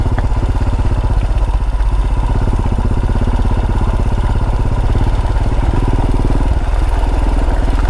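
A Royal Enfield Himalayan motorcycle engine putters steadily at low speed, its single-cylinder beat thumping close and loud in an even rhythm throughout, with light mechanical clatter.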